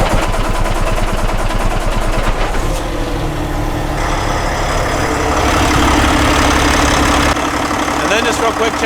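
A dump truck's diesel engine idles loudly and close, its steady rumble shifting in tone partway through, with someone talking over it.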